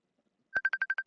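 A phone's incoming call alert, a rapid series of about seven short identical electronic beeps starting after a moment of silence, clear and close.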